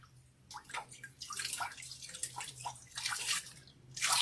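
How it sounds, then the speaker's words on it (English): Cold water splashed onto a face by hand from a cup in quick, irregular splashes and drips, close and fairly soft with no talk. "I'm gonna rinse my face with cold water."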